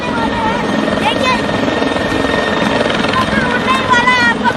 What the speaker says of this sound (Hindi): हेलीकॉप्टर उड़ने ही वाला है।